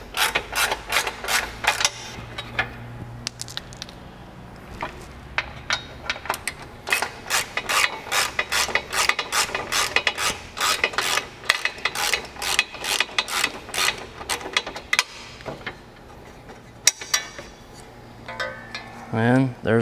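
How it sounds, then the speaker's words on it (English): The bottom bolts of a push bar come off a Polaris RZR XP Pro with repeated bursts of close ratchet clicking and occasional metallic clinks, and a voice speaks briefly near the end. "So first we take out the bottom bolts"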